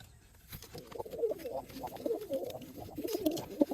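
Pigeons coo softly and repeatedly in a loft, low throaty warbling calls overlapping from several birds close by, with faint rustling underneath.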